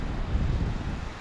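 Wind buffets the microphone over a steady roar of surf, loud and continuous with no voices.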